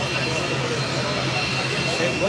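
Turboprop engines of an ATR 72 freighter, a modified 72, at an airshow, a steady loud broadband roar that holds throughout with voices talking faintly beneath it.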